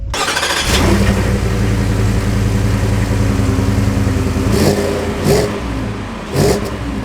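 Ford F-150 Lariat pickup from 2024 with the 5.0 V8 revs hard, a loud, steady engine drone holding through most of the stretch, with a few brief throttle blips near the end; no talking.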